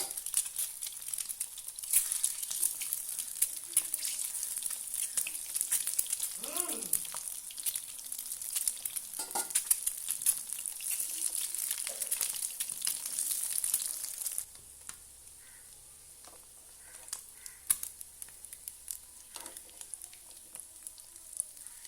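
Four eggs laid face down in hot oil in a pan, a steady crackling sizzle that runs for a long stretch, then drops to a quieter simmer partway through, with occasional pops and clinks.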